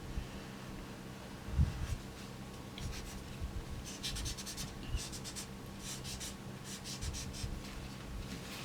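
A Prismacolor colored pencil is layered onto paper, giving soft, quiet scratchy strokes in short bursts with a faint rubbing texture and a couple of light taps, close to the microphone.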